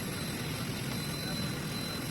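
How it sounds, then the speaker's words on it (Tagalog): A private jet arrives carrying former mayor Alice Guo, its steady loud engine roar and whine holding constant throughout, with a voice talking over it. "Ito ang kanyang sinakyan na private jet."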